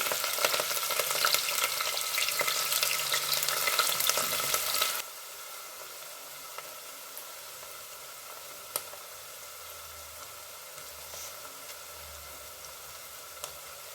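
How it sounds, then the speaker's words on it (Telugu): Onions frying in hot oil for chicken pulao, a loud dense crackling sizzle for about five seconds that then drops abruptly to a much quieter hiss with occasional faint ticks and pops. "కొంచెం వేడెక్కాక నూనె మనం ఆనియన్స్ వేసేసుకుందాం"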